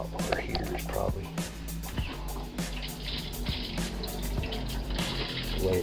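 A NuWa travel trailer's water pump runs near an empty tank, giving a sputtering, uneven hum while water gurgles and spits from a nearby tap; quiet speech is heard over it.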